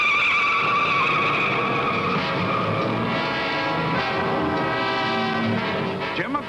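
A 1963 Daytona 500 Pontiac race car blowing a tire at 165 mph: a long, loud, continuous tire squeal and skid with engine roar underneath, holding steady for several seconds before tailing off.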